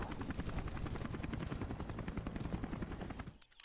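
A helicopter arriving in a multiplayer shooter video game beta, rapid thudding rotor chop with bursts of gunfire layered over it, loud and close before dropping off abruptly at the end.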